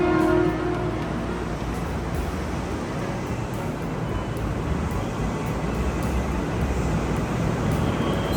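An airport train in Jakarta rumbles along steadily with a broad, continuous roar and faint rattling, heard from inside the carriage.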